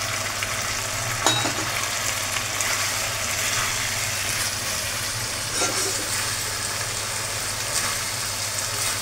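Pan-fried chicken pieces seasoned with pepper and salt are tipped into a hot pan for chilli chicken, producing a steady loud sizzle with a sharp clatter early on, and no talk.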